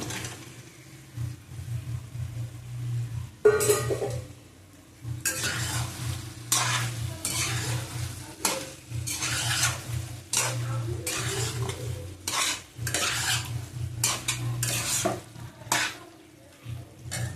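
Steady sizzling of chicken frying in a spice mixture in a pan, broken by repeated stirring and scraping of a utensil against metal, close and fairly loud.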